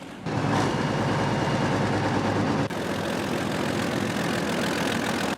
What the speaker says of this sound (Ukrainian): Самі лише розміри та звук мотора піона вже справляють враження